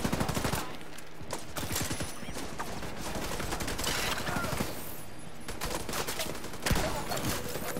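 Heavy gunfire in the shooter game Tom Clancy's The Division 2, dense bursts of automatic fire and rapid shots layered over a continuous battle din, loud and sustained throughout with a few sharper volleys near the start and end.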